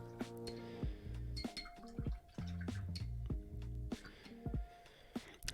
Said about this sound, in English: Here, rinse off my brush.